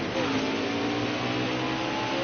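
Race car engine in a NASCAR video game revving after downshifting twice at Kansas, a continuous mid-pitched buzzing roar that holds steady throughout.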